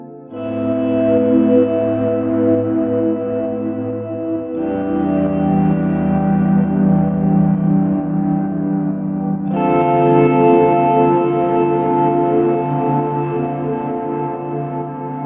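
Sustained, washy ambient chords drenched in reverb, shifting to new harmonies twice, loud and dreamy with no voices.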